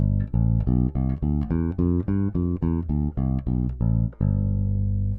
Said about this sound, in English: So a G Mixolydian scale sounds like this.